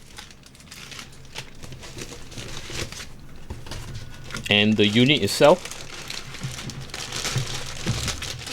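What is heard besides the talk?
crinkling plastic bag around Montech Century II PSU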